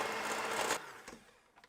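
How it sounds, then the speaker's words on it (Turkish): Electric hand mixer shredding cooked chicken breasts in a bowl, a loud whirring motor grind that cuts off abruptly, followed by a few faint clicks and knocks. "Mikserle parçalıyorum tavuk göğslerini"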